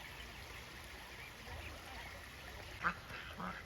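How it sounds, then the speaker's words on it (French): A single short quack from a duck among ducklings and their parents, with a fainter call after it, both brief over a steady background of flowing stream water. "petits canards"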